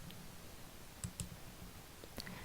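Faint mouse clicks selecting a menu item on a computer screen, two quick clicks close together and another shortly after, over a quiet hiss of room noise.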